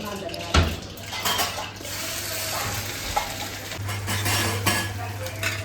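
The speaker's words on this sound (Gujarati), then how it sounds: "પછી મેં થોડા ભાત વઘાર નાખ્યા." Leftover cooked rice being tempered in a kadai is stirred with a spoon, giving repeated scraping and clinking against the metal pan over a soft sizzle.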